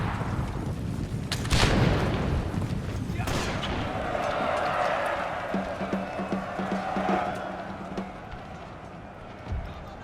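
Distant gunfire pops and booms over a noisy battle din in a Total War game set in the Thirty Years' War, with a sharp loud crack early on and a steady rumble throughout.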